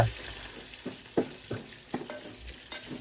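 Mustard seeds, garlic and chilies frying in a pan, a faint steady sizzle broken by several distinct stirring scrapes and knocks at uneven intervals, close and quiet with no talking.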